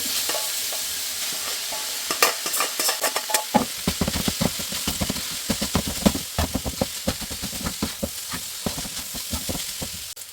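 Beef and rice stir-fried together in a pan for beef fried rice, with a steady sizzle and frequent scraping and clinking of the spatula against the pan, close and busy throughout.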